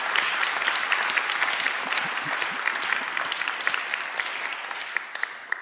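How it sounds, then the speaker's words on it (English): A crowd at an evening ministry event claps to thank the kitchen staff, a steady dense applause of many hands, fairly close and continuous, gradually thinning toward the end. "So if you could clap loud enough just to thank them for all of that."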